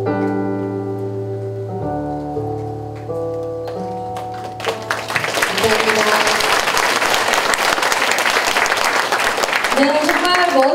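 Audience applause breaks out after a concert performance at a lecture event, starting faintly beneath fading instrumental tones and swelling into dense, sustained clapping from a large crowd.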